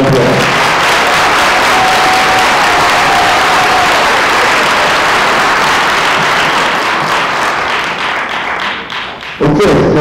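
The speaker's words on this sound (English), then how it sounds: "Let's give you guys a round of applause" Loud, close applause rings out at a high school signing ceremony where seniors sign letters of intent, a thick sustained clapping that carries some thumps and taps, then fades and cuts off near the end.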